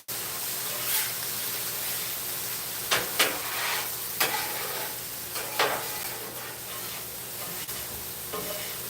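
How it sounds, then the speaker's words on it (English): Sugary junk rice sizzles steadily on a hot griddle with a constant frying hiss. A few sharp scraping stirs break through now and then, and no one speaks. "You can hear it as it hits. There's so much sugar in there that it is going to caramelize incredibly quick."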